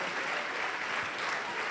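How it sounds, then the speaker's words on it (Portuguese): A church congregation claps together during a Pentecostal worship service, the broad, steady wash of many hands filling the room with no voices standing out. "Vamos aplaudir mais o Senhor Jesus."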